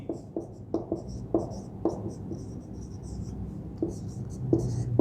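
Chalk or marker strokes on a classroom board during an English grammar lesson, a series of sharp taps and short scratches in an irregular rhythm, close and fairly clear with faint background noise.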